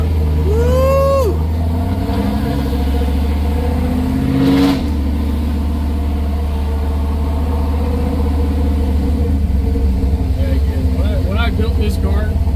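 A big block Chevy Nova engine drones steadily and loud from inside the car during a ride, a deep continuous rumble with a brief swell near the start, while people talk over it.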